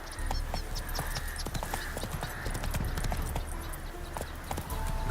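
Roach the horse trotting in The Witcher 3, hooves clip-clopping in a steady rapid rhythm over a low ambient rumble, continuous and moderately close with no talk.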